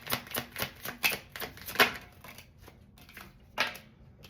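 Tarot cards being drawn and handled from a deck, a run of quick, crisp snapping and flicking sounds followed by a few softer slides and taps, close and quiet with no speech.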